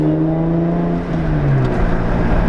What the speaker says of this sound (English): that's what the muffler delete sounds like